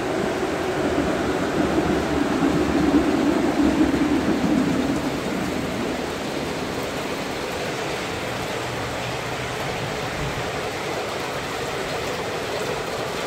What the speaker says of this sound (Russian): Дождь стеной.